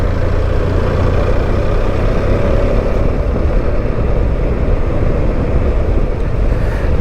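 A motorbike engine drones steadily on an old, forgotten highway through native New Zealand forest, a constant close hum with no talking.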